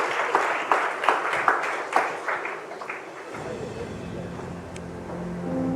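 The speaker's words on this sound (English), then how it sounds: "a big round of applause for Arpita Singh" An audience at the NDTV Masterstroke Art Awards applauds artist Arpita Singh with a close burst of clapping that fades after about three seconds, giving way to a low room rumble.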